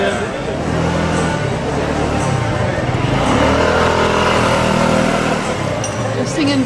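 Scooters driving along a road on Italy's Amalfi Coast, their engines droning and passing close and loud, mixed with people singing over the motor noise.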